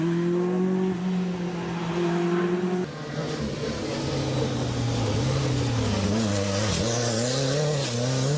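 Group B rally car engines rev and drone close by, steady tonal engine notes that drop and shift as gears change, with squealing tires and rising acceleration toward the end.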